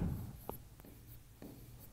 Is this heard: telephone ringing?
no